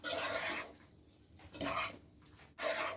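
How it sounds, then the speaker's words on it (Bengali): Spatula scraping and turning fried rice with ghee in a pan, three separate bursts of close rasping and stirring with short quiet gaps between them. "ঘিটা দিয়ে আরেকটু উল্টিয়ে পাল্টিয়ে নেড়ে দিব"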